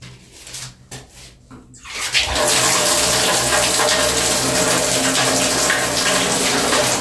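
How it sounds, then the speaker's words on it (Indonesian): Water gushing from a newly installed tap in a subsidized house in Jepara, a strong steady rush that starts abruptly after a couple of seconds of quieter handling noise and continues loud and close. "Ini kita bisa nyalain kerannya, udah ada airnya apa belum."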